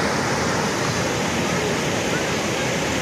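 The Pikjuga river flowing, a loud, continuous broadband rush of water that stays constant and close, like a strong current over stones, with no pause.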